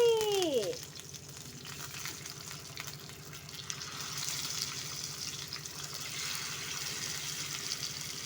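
Fish simmering in a pot for a home-cooked pothichoru meal on an Andaman island, a soft steady bubbling and sizzling hiss, faint and close, with gentle watery movement throughout.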